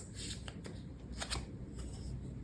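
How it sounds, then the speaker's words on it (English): A deck of cards is shuffled close up in quiet rustling, riffling bursts, faint and continuous for a couple of seconds with no voice. "I'm going to shuffle on camera to give you some more answers"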